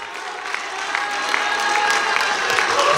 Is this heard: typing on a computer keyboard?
no